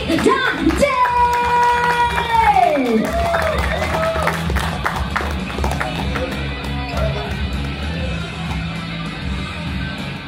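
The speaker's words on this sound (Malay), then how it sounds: "berikan tepukan yang gemuruh buat jemputan artis kita yang berikutnya" A media event crowd claps and cheers for the next guest artists, with busy applause and scattered shouts behind a musical stinger and a host's voice at the start.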